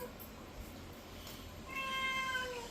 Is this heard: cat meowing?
yes